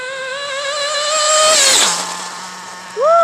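Kyosho MP9 nitro RC buggy with a modded .32 engine running rich, a high whining rev that climbs, then drops sharply to a low idle drone before a brief rising blip, loud and close.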